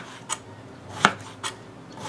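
A knife chops eggplant for Thai green curry, sounding as a few sharp, separate knocks on a cutting board at uneven intervals, close and fairly clear, with no talk.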